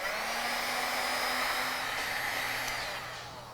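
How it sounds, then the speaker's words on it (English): A heat gun warms the adhesive pad of a GoPro mount and the helmet surface, giving a steady close airy blowing roar with a faint motor whine, tapering slightly at the end. "we want to heat up both the gummy surface and the helmet surface with a heat gun"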